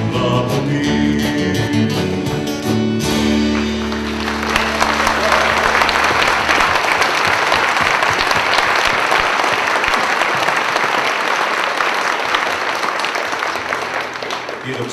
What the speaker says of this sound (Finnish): Nämä aplodit olkoon teille, ne oli hyvin innokkaan kuuluiset